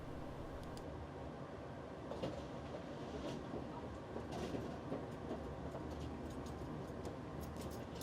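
Train wheels roll over the rails near El Paso, heard from inside a passenger car as a steady rumble with faint periodic clicks and rattles, no talking.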